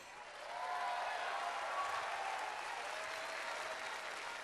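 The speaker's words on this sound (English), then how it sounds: "Let's have a big round of applause for Mr." Sustained applause from a large audience at a robotics game reveal event, swelling in after a brief quiet start and holding steady and dense throughout.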